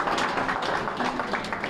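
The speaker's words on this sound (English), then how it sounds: "That deserves a round of applause." Applause from a senior center audience, dense and continuous claps at moderate volume throughout, with faint talk underneath.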